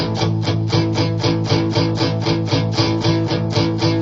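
A guitar strums chords in a steady, even rhythm, moving through a progression with bright, ringing strokes.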